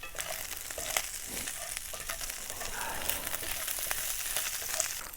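Food frying in a pan with a touch of garlic salt being stirred in: a soft, continuous sizzle with occasional spoon scrapes and taps, fairly quiet and close, with no voices.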